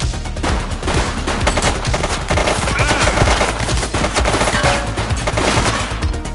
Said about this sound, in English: Suspect is down. Shots fired!